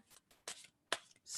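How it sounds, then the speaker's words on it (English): Playing cards being shuffled by hand in three short riffling bursts with brief pauses between, close and fairly quiet, no talking. "Tell me when to start shuffling on that."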